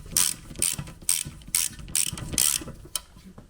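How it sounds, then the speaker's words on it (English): A ratchet with a 14mm socket tightening the rear brake caliper bolts on a 2015 Toyota Corolla, with about seven bursts of rapid clicking in a steady back-and-forth rhythm, close and loud, with no voice over it. "using our 14mm socket, we are going to tighten these up."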